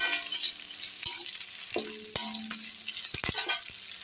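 Onions and roasted peanuts being sautéed in a pan for a mixed spinach rice, giving a light, steady sizzle broken by a few sharp scraping stirs and clinks of a spoon against the pan, near and alone.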